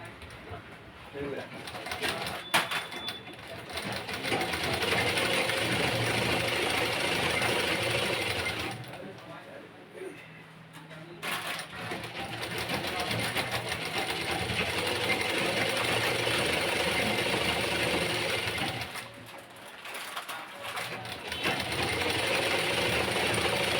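A sewing machine stitches the padded lining of a blouse, a continuous close mechanical whir running in long bursts with two short stops, while pigeons coo in the background.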